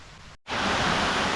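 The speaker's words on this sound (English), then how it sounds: "So this is one of the many waterfalls on this walk." One of the many waterfalls on the Glen Branter walk roars as a steady broadband rush. It is loud and close, and after a momentary break near the start it stays continuous.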